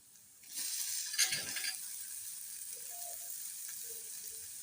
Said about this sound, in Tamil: இப்போ இந்த வெங்காயத்தை நல்லா வதக்கி எடுத்துக்கலாம்